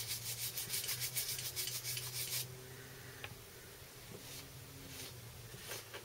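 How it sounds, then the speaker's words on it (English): Brisk, rhythmic scrubbing strokes on a handgun light during cleaning, a close, steady burst for about two seconds. Then it falls to a faint background hum with a few small clicks. "Maybe get a little scrubbing in there."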